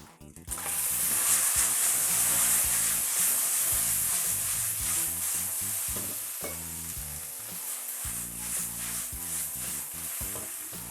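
Mixed mushrooms stir-fried in a wok with fluffy scrambled egg, scallion and garlic give a steady, close sizzling hiss that runs unbroken for about eleven seconds, with tonal background music beneath it.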